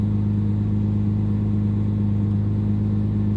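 A 1200 hp Nissan R35 GTR engine idles in a steady, loud, close drone with a deep, even rumble throughout, no voices over it.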